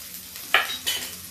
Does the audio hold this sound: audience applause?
no